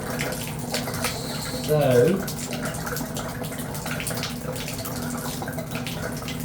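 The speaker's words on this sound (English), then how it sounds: "And there's your water draining." Water drains and trickles from a Delta tub faucet with an old cartridge, a soft steady wash with a brief louder gurgle, while someone talks over it.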